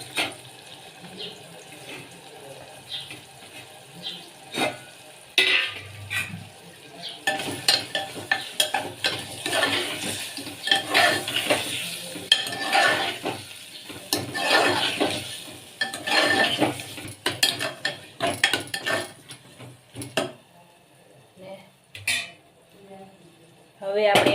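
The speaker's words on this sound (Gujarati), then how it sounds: "પછી આપણે એમાં નાખશું ગવાર" Tender cluster beans (guvar) tipped into a pan and stirred for a Gujarati vegetable curry, with scraping, clinking stirs, some watery sizzle and tap-like running sounds in irregular bursts, close and moderately loud, with occasional talk.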